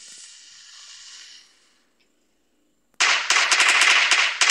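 A Firecracker 04 firework goes off after a quiet stretch, a loud rapid crackling burst of many sharp pops that follows a fading hiss.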